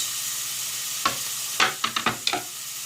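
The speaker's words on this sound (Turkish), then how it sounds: "Ve bunları güzelce pembeleşene kadar böyle çevirerek sote edeceğim" A few sharp scraping knocks of a utensil stirring diced onions sautéing in oil in a pan, set against a steady soft sizzle with no talking.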